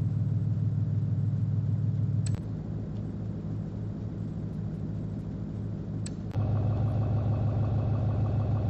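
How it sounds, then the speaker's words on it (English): A Ford truck engine in Forza Horizon 5: a steady, low idle drones throughout, shifting in tone twice with brief clicks as the idle changes. "Listen to the idle."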